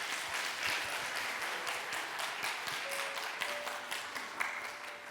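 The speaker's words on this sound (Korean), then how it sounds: "나오실 때 큰 박수 부탁드립니다." Sustained applause from a church congregation at a Sunday service marking the senior pastor's 30th anniversary in ministry, a steady dense patter of many hands that holds evenly throughout.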